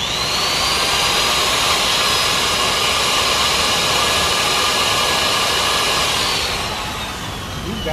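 A loud, steady high-pitched whine of a power drill running continuously on farm machinery, easing off slightly near the end.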